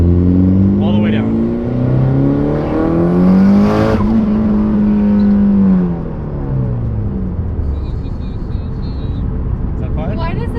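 A Mitsubishi Evo with a big turbo accelerates hard under full throttle, its engine note climbing steadily in a loud rising roar before easing off; people talk inside the car over it.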